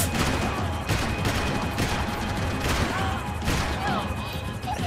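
Gunfire in the video game Max Payne 3, a dense continuous fusillade of shots and crashes that fills the whole stretch, loud and close, with no pause.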